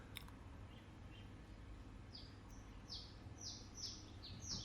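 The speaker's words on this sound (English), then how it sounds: "Noticing the sound on my end, all the birds singing quite loudly today." Birds singing loudly outdoors, a series of short bright chirps and tweets repeating at a fairly steady pace in the middle distance against a quiet background, with no talking.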